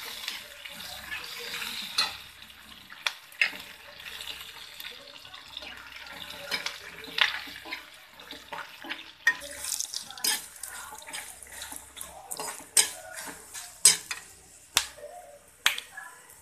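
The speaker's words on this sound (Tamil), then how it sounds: "ஒரு ரெண்டு ஸ்பூன் தனியா ஒரு கொத்து கருவேப்பிலை இதெல்லாம் நல்லா வறுத்து எடுத்துக்கலாம்" Coriander seeds and curry leaves roast in a pan, giving scattered crisp pops and crackles with occasional scraping stirs, growing sharper and more frequent toward the end, close and fairly quiet.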